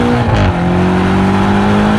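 BMW M5 Competition F90 accelerating hard in second gear, a loud, close engine roar with a rising, sustained tone that dips briefly as it climbs, strong and continuous with no talking.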